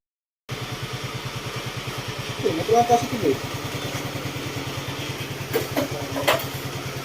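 A motorcycle engine idles steadily with a rapid, regular low throb, rising briefly in a short rev partway through before settling back.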